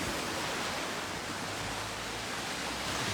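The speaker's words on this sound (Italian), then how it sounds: "Questa è la nostra bella Sicilia, questo è il nostro tesoro, il mare siciliano" Mediterranean sea waves along the Sicilian coast, a steady broadband wash of surf rolling continuously at close range with no voices.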